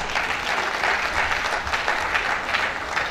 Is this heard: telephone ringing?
no